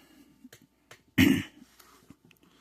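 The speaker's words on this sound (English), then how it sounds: "just clear my throat." A single short throat clearing, close and fairly loud, with quiet room tone and faint small noises around it.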